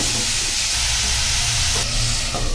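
Tomato and onion masala for kadai paneer fries in a pan with a steady, loud steamy hiss and sizzle, a slight surge partway through.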